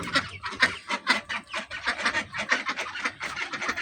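Young ducks and chickens in a poultry shed cluck and cheep continuously, a dense overlapping flock chorus heard up close with a steady rapid rhythm and no talking.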